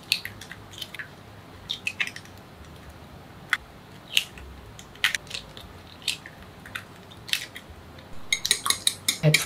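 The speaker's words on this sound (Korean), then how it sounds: "계란 알끈이 없도록 이제 거품기나 포크로 잘 풀어주세요" Eggs being beaten with a whisk or fork in a bowl for a Korean rolled omelette with garlic chives, heard as quick clicking and tapping strokes against the bowl, fairly faint at first and then faster and busier toward the end.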